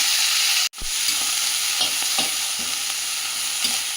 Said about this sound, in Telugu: కట్ చేసి ఉంచుకున్న మెంతికూర పోపులో వేసుకొని